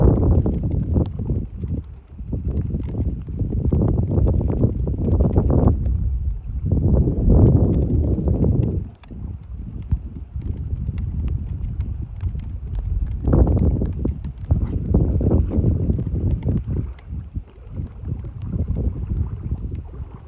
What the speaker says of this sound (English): The wind started changing direction.